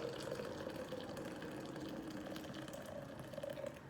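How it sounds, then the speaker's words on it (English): Water poured into a coffee press in a home kitchen, a faint, even trickling stream running steadily throughout with no voices. "And then I'm going to pour a little more water."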